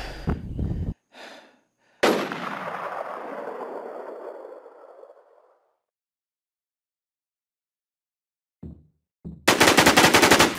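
Machine gun fire in the video game WarZ: a sharp burst, then a loud shot with a long decaying echo, silence, and a renewed rapid burst at the end.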